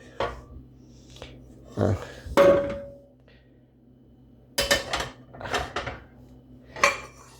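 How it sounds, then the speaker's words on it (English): Hammered copper finish skillets clank and clatter as they are handled and set down, a few bright metallic knocks and scrapes close by with pauses between. "This is the same skillet in the hammered copper finish"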